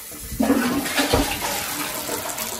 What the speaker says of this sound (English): especially when I flush a toilet